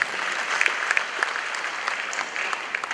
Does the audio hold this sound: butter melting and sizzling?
no